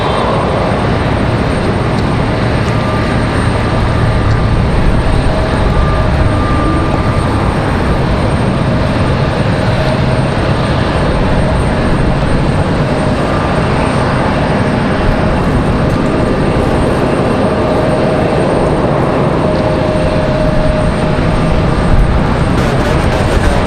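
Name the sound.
Breeze Airways Airbus A220 landing at RDU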